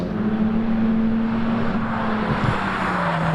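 Hillclimb race car on the final straight, its engine note holding a steady, loud pitch as it drives past close by with a strong low rumble, no talk over it.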